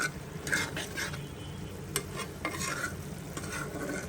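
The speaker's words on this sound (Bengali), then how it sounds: "পটলের দোলমার জন্য এখানে আমি তৈরি করে নিচ্ছি গরুর গোস্তের কিমাটা" Beef mince for a stuffed pointed-gourd dolma frying in a pan with spices, stirred over a steady sizzle with repeated scraping strokes of a spoon against the pan, close and alone.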